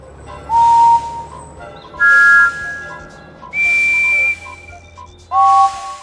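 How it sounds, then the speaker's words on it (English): Four separate steam engine whistles from a Thomas & Friends PC game, each a steady tone lasting about half a second and sounding one after another over a soft background hum. "Listen to the whistles and find one like Percy's."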